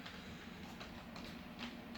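Model railway trains running on a layout track, a steady low rumble with faint rhythmic clicking, quiet and continuous.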